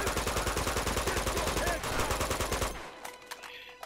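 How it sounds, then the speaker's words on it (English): Grenade thrown and exploding in Uncharted 2 amid loud rapid gunfire from the game, the heavy burst sound cutting off abruptly near the end into quieter game ambience. "First thing we're gonna do, throw a grenade out."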